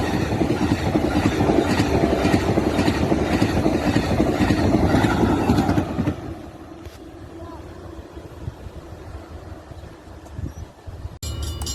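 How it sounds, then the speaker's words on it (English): CSX freight train CSXP 935, delivering Acela train set number 4, rumbles loudly past at close range for several seconds before the noise drops to a quieter, more distant rolling sound. "Here we have CSXP 935, which is once again the Acela train set number 4 delivery."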